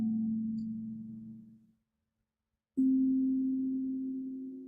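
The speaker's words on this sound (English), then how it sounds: "as you listen to those tones" Soft, steady meditation tones hum in a low, pure drone, stopping for about a second of silence before a second sustained tone swells back in, with nothing else around them.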